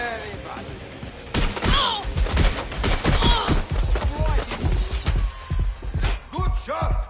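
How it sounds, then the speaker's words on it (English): Bursts of gunfire from the game Watch Dogs Legion crack loudly in quick, uneven volleys, mixed with shouted voices of characters in the fight. "They won't stop shooting!"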